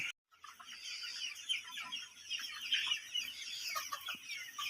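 Chickens on a poultry farm cluck and chatter in a busy overlapping flock, close and continuous after a brief silent start, with no talking.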